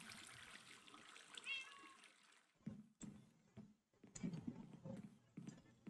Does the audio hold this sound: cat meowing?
yes